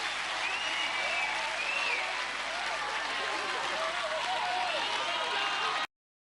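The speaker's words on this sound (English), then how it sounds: "Andreya accepts the applause of her family." A family audience at a 1996 Gladiators UK television final applauds warmly in a continuous wash of clapping and crowd noise, steady for nearly six seconds before cutting off abruptly, with a commentator's voice over it.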